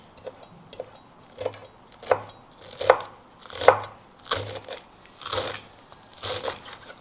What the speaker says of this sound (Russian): Режем зелень.